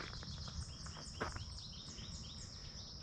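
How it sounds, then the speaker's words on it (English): Birds sing outdoors along the Corll Meadows Braille Trail, a grassland and tree setting in Austintown Township: faint, scattered high chirps and tweets over a quiet, low ambient hum, with no talking. "I'll be quiet for a minute, listen to the birds."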